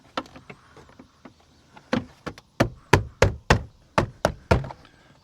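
Knocks on a 2001 Buick door panel as a window regulator part is tapped into place: a run of about a dozen sharp, close raps, quiet and scattered at first, then louder and evenly spaced toward the end.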